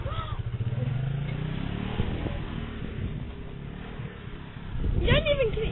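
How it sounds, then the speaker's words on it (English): A quad bike engine runs steadily in a muddy outdoor spot, a continuous low drone under close talking, swelling briefly louder near the end. "You kind of hear me over the sound of the engine."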